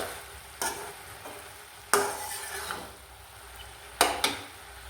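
Onion stalks frying in a pan, a soft steady sizzle with three distinct bursts of stirring and the spatula scraping the pan, close by and with no one talking.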